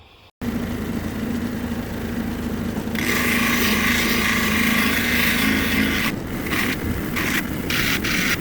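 A rock being sanded on a cabbing machine at 220 and 600 grit, a loud continuous grinding hum with a harsher abrasive hiss in the middle, steady and close, no voices.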